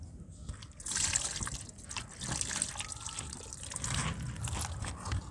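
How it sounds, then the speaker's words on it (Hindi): Water poured into a handmade mud-and-dirt texture mixture, a steady liquid trickle and splash running for several seconds at moderate, close range with no talk over it. "तो बाकी जो इसमें टेक्सचर में लिक्विड है ना वो इसमें हम डाल देते हैं पानी"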